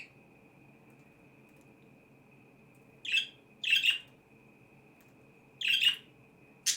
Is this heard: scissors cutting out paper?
no